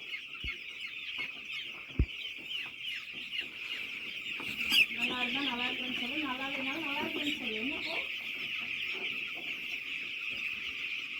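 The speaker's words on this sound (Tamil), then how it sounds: "கோழி குஞ்சு" High, thin peeping from young chicks runs steadily throughout, with a few louder clucks and a brief rooster-like call rising midway.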